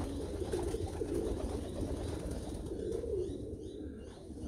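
Tiger grizzle and Carno's Meuleman racing pigeons, many of them young birds, coo in a loft in a low, steady murmur with soft rustling, close and continuous with no one speaking.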